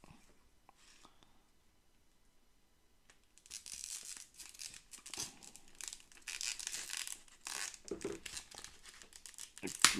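Close crinkling and tearing of plastic wrap on a Marvel Champions card game hero pack, starting after a few quiet seconds and continuing in irregular bursts of rustling and ripping.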